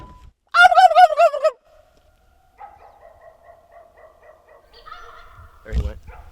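A wild turkey in mountain country gobbles in a loud, rapid warbling burst, answering a hunter's call, followed by quieter calling tones and a closing thump.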